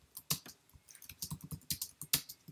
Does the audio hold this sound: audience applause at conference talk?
no